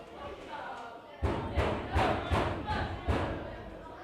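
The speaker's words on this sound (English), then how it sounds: "I'm sure you can hear some of the noise in the background from our young fans over" Young football fans in the stands at a pre-season friendly between Stocksbridge Park Steels and Farsley Celtic make rhythmic noise, a run of about five heavy thumping beats with crowd murmur behind a commentator's voice.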